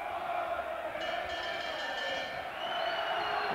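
A large boxing-arena crowd of Andy Flute supporters sings loudly and steadily at a 1994 fight, a massed chant holding sustained tones at a fair distance with no break.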